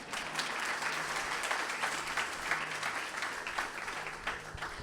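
A church congregation applauds and acclaims, sustaining a dense, even roar of clapping throughout, with no pauses.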